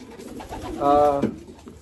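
A champion racing pigeon gives a single soft, close coo lasting under half a second against a faint background.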